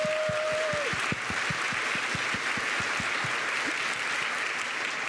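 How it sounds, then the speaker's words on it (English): Steady crowd applause at a university Latinx graduation celebration, a dense continuous wash of clapping with a few louder near claps at the start, with no talk over it. "Can we please give them another round of applause?"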